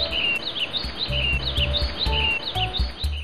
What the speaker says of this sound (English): This is morning birds.